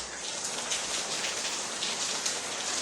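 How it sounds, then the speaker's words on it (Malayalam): Heavy rain pours steadily in a dense, even hiss, close and constant with no voices over it. "നല്ല മഴയാണ് കേട്ടോ."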